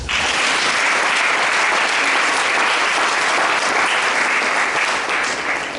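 A church congregation applauding together, dense, loud, sustained clapping that fills the room evenly and tapers slightly at the end.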